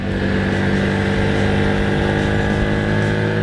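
An FKM Victorino 250i motorcycle engine hums steadily while cornering, a continuous, even drone with no talking.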